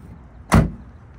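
A single short, solid door thunk as the rear barn doors of a 2001 Chevrolet Tahoe swing open, standing alone against a quiet background.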